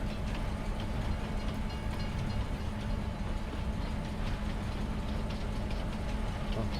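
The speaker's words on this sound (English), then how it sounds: "We're driving the train." Train rolling along rails in the Farming Simulator 25 video game, a steady dense rumble with faint rhythmic clatter, continuous and unchanging throughout.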